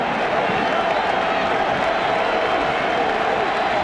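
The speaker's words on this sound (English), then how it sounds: "crowd getting noisy" Dense, steady roar of a college football stadium crowd at Iowa during a Michigan game, loud and continuous throughout with no clear single voices standing out.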